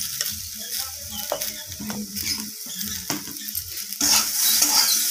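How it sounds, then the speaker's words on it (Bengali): Mixed vegetables with ginger paste and salt stir-fried in a pan: irregular scrapes and clinks of a spatula against the metal over a crackling sizzle that swells louder toward the end, close and without talk. "আদা আর লবণটাকে দিয়ে সব কিছু সবজির সাথে আবারও আমি নাড়িয়ে চাড়িয়ে কষিয়ে নেব"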